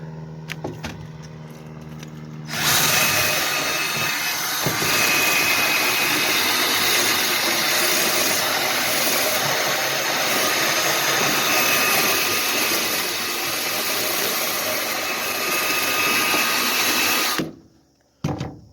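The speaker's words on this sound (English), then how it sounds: "I'm going to take a wire wheel and try to clean that up." A wire wheel on a power tool scrubs rust off the pivot of a manure spreader, a loud steady whirring grind that runs continuously for about fifteen seconds before cutting off.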